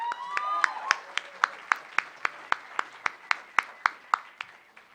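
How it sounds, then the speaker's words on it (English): A comic convention panel audience claps for volunteers, with one clear, regular clapper striking about three times a second and a few voices briefly at the start. "Let's give them a round of applause."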